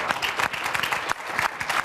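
Audience applause at a political talk on millennials and engagement: steady, dense clapping from a sizeable crowd, sustained throughout with no voices over it.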